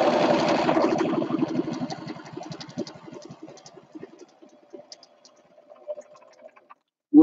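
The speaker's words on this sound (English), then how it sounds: "you can see I'm taking a deep seam. And I'm straight stitching." Sewing machine straight stitching a deep seam in quilt fabric, a rapid mechanical whir that is loud at first and then thins into sparse ticks before stopping, ending with a short sharp knock.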